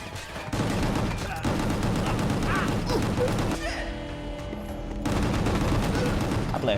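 Gunshots in the action video game Gungrave Gore, a dense, continuous fusillade of blasts and mechanical clatter, loud and close, briefly thinning to a dull rumble before resuming at full intensity.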